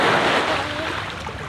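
Ocean waves wash onto a beach in Goa, a steady, loud broadband roar with wind buffeting the microphone throughout.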